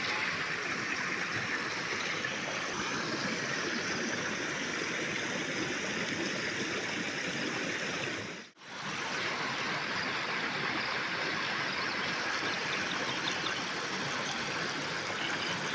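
Steady, broadband rushing of rainwater flowing in a village continues throughout, loud and close, with a brief dip partway through.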